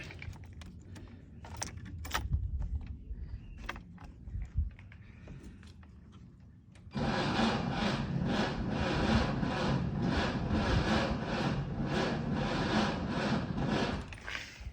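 A Skoda 120L engine is cranked using a battery booster, a loud, rapid, rhythmic churning of the starter that begins partway through and keeps going steadily, after scattered clicks and knocks.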